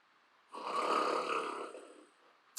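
A snoring sound effect for a LEGO WeDo 2.0 gorilla robot programmed in Scratch: a single breathy, rumbling snore of about two seconds that swells and then fades out, heard alone.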